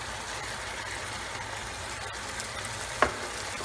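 Prawn and tofu curry is gently stirred in a hot pan, with a soft continuous sizzle and light stirring underneath and a single bright clink from the utensil near the end.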